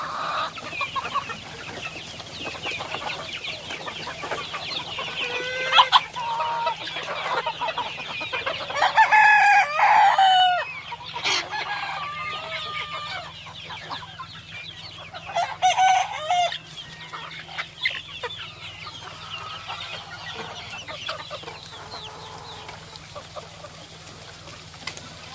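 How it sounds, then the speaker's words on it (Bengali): Egyptian Fayoumi chickens cluck in a yard, with a rooster crowing loudly and clearly twice in the middle; the birds are fairly near and no one talks. "চলে যাচ্ছে মুরগিগুলো।"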